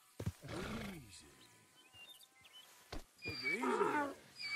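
A donkey in Red Dead Redemption 2 lets out two loud, drawn-out braying calls separated by a quieter pause with faint shuffling.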